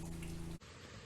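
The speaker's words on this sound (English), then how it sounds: "It is still on and off raining here." Rain falls steadily on a campsite during on-and-off heavy downpours, a dense hiss with patter of drops that continues after a brief cut partway through.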